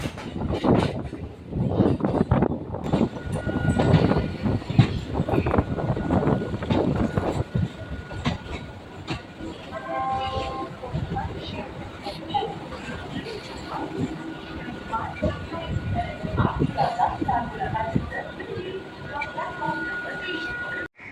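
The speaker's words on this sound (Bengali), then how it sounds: "আজ আপনাদেরকে দেখাবো শিয়ালদাহ স্টেশনে ট্রেন ঢোকার মুহূর্ত" A train pulls into Sealdah railway station in Kolkata, its heavy rumble and rhythmic wheel clatter loud and close early on, easing into a steadier rolling drone with faint squeals and station noise.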